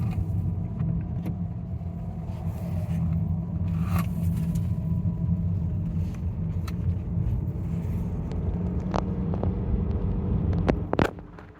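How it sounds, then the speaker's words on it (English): A 2022 Honda Accord Sport Hybrid downshifting to charge its battery while driving, a steady low engine and road rumble throughout with a few sharp clicks near the end. "I'm charging it by downshifting it"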